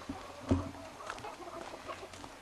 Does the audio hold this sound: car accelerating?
no